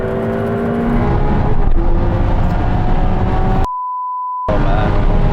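Several cars in a drag race, a Ferrari 488 Pista, a Lamborghini Aventador SV and a Porsche 911 Turbo S, roar loudly under hard acceleration with a rising engine drone, interrupted by a steady beep that briefly masks the sound.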